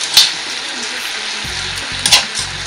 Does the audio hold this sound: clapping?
no